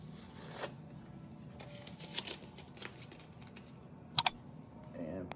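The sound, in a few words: tape being pulled up from vinyl flooring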